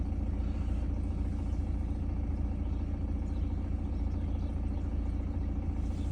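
A car engine idles during a battery and charging test with a Foxwell BT705 tester, giving a steady, close, low rumble that stays even and unbroken throughout with no talking.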